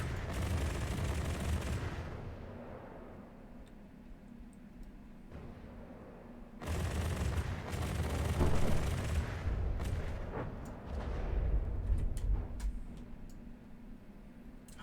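Naval turrets fire in the From the Depths battleship game, with heavy booming salvos and rumbling blasts coming in waves, separated by quieter gaps with faint ticking.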